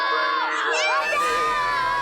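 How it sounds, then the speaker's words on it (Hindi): Shrill, sustained screaming from children rises loudly, layered with crowd-like shouting and cheering voices that fill the short passage. "एक बच्चे की चीखने की आवाज सुना?"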